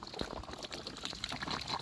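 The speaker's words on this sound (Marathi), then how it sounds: "प्रत्येक ठिकाणी पाणी आहे आणि ड्रीपवर अशा पद्धतीने पाणी येतं" Water from drip irrigation on a sugarcane farm trickles and splashes softly, a close, continuous gurgling flow with small spatters.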